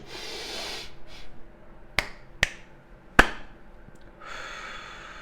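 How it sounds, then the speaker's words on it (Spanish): During a guided relaxation exercise, a soft breathy rush opens, then two sharp finger snaps come close together, followed by a single crisp hand clap and a long, slow, audible exhale trailing off alone. "2 chasquidos de dedos, un aplauso y exhalamos lentamente"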